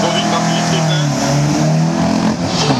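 An Opel Manta rally car at a historic hill climb in Urcy roars with a loud, steady engine drone that holds its pitch throughout, rising slightly as it accelerates.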